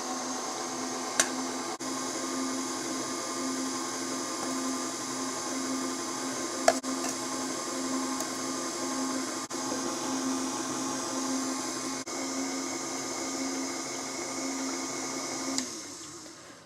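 An electric mixer runs on low speed through dry ingredients for sweet potato pie, holding a steady whirring motor drone with a few faint clicks, close and continuous until it winds down at the end.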